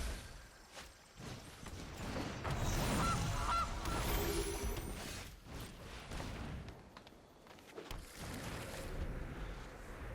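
A goose honks in MTG Arena, loud nasal honks rising and falling over several seconds amid whooshing game effects.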